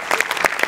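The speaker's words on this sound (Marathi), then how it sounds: "याच्यात तुझ्या लेखकासाठी जोरदार टाळ्या एकदा" A brief burst of audience applause for a comedy skit's writer, a dense patter of many hands clapping with no voices over it.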